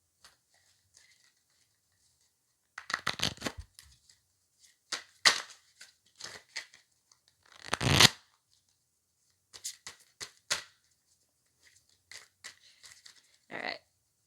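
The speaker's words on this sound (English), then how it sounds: "All right, let me reshuffle these real quick." Oversized tarot cards shuffled in bursts, crisp riffling flicks and slaps arriving in several separate clusters with quiet gaps between them, close and clear with no talk.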